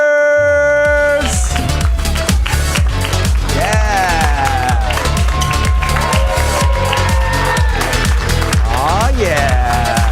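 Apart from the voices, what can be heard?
audience applause at a comedy show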